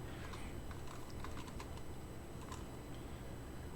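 Steady clicks of typing on a left-handed computer keyboard, quiet and close, spread over a soft constant room hum with no talk.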